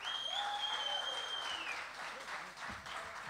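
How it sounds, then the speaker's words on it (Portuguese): Audience applause at a concert greets the electric guitarist, a dense wash of clapping that stays steady and loud for about two seconds, then thins and fades, with a few whistles over it. "Palmas para ele."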